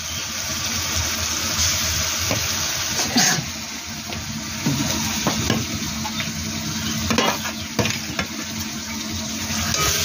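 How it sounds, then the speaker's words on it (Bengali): Tomato paste being stirred into whole cloves, cardamom, sweet wood, garam masala and onion frying in a pan, with a steady close sizzle and intermittent scraping stir strokes throughout, no talking. "টমেটো বাটা দেওয়া হচ্ছে।"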